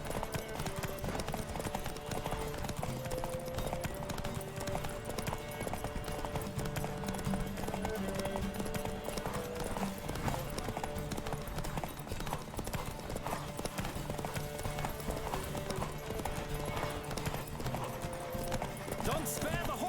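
Horse hooves clip-clop at a steady gallop in The Witcher 3, a continuous rhythmic pounding running the whole way under a game music bed, with someone talking over it.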